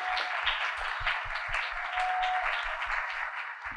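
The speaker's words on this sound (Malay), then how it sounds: "berikan tepukan gemuruh sekali lagi untuk para pembahas kita" Sustained applause from a school debate competition audience, a dense wash of many hands clapping steadily at moderate loudness throughout.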